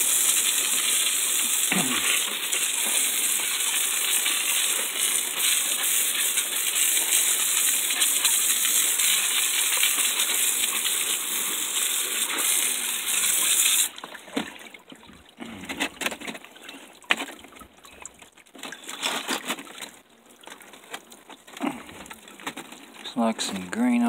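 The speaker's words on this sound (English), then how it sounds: "I'm gonna wash these rocks." Water washing over freshly mined opal rocks, a steady rushing splash that gives way to clinking stones and dripping handling sounds, with someone talking.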